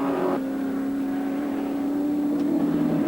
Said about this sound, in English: and Cross in for the ride too as they head up Mountain Straight